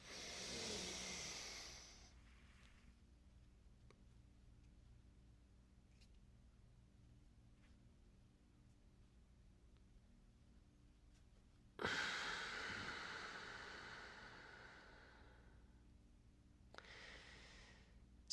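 Yogic breathing through the nose: a soft breathy inhale at the start, a long quiet pause, then a stronger hissing nasal exhale that fades slowly, with a brief further breath near the end.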